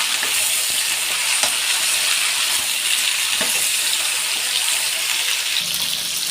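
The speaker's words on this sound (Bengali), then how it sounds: "আর এদিকে তো আমার সবজি ভাজা চলছে" Vegetables frying in oil in a pan give a loud, continuous hiss close up, with a few faint stirring knocks and a low hum creeping in near the end.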